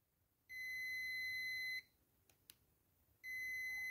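A multimeter on continuity test across a laptop MOSFET sounds a steady high-pitched electronic beep twice, one sustained tone over a second long, a gap with faint clicks, then the beep again, with no speech.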